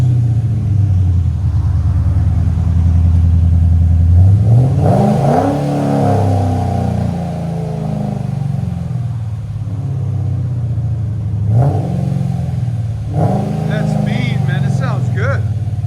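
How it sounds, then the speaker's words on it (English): A Chrysler 300 C with a Demon supercharger, long-tube headers, Flowmaster Outlaw mufflers and Corsa resonators idles with a deep rumble, then revs hard several times, rising to a loud roar and falling back, with voices talking over it. "Chrysler 300 with a Demon supercharger. Long tube headers, Flowmaster Outlaws, and Corsa resonators."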